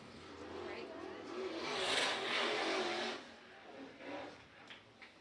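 IMCA Modified race cars on a dirt track roar through a lap near the back of the pack, engines swelling to a loud peak then easing off, with a busy crowd-and-announcer wash underneath.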